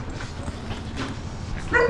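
Dogs barking a short distance off in a rural setting, a few scattered yaps over steady background noise with one sharper bark near the end.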